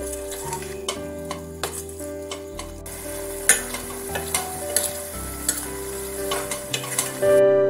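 A spoon stirs jackfruit appam batter mixed with a pinch of salt, giving soft, irregular clicks and scrapes under steady background music with sustained tones.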